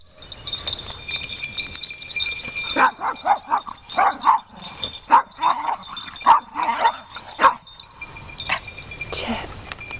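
Dogs bark and yip in short, lively bursts while playing together at a park, close and fairly loud, with some jangling and a person speaking to them now and then.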